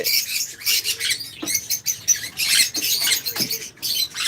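Black-eyed Fischer's lovebirds calling, a dense busy chorus of high shrill chirps and squeaks, rapid and overlapping, close and fairly loud, with no talking.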